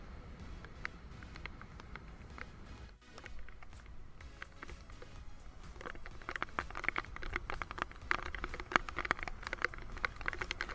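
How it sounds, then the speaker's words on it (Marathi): Monsoon rain falls in coastal Konkan at Shrivardhan, a soft patter of countless drops and splashes that grows denser and sharper in the second half. "जोरदार पाऊस चालू झालाय जोरदार"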